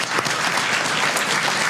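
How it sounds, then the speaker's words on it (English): A small crowd gives a round of applause for three Australian astronauts at a school question session, with steady clapping throughout, fairly close and moderately loud. "a round of applause for our three astronauts"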